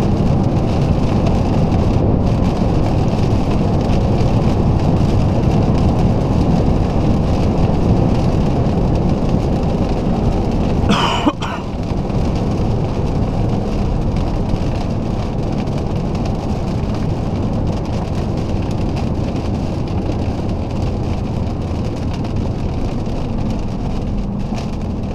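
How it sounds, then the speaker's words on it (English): Steady broadband rain and tyre roar inside an Alfa Romeo 159 2.4 cruising at 140 km/h in the rain, a constant loud cabin rumble with one brief louder whoosh midway, no talking. "at the moment with 140 kilometers per hour and rain"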